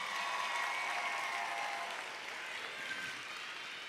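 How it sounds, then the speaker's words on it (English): Graduation ceremony audience applauding seniors at a high school, an even continuous roar of many hands clapping at moderate distance, steady throughout and easing slightly in the latter half. "Let's give them all a round of applause."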